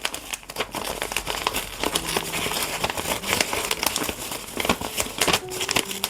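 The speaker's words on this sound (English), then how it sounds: "I'm going to rip this first." Decorative art-journaling paper ripped by hand, giving a run of close crinkling and tearing crackles with short sharp bursts, loud and steady throughout with no talking.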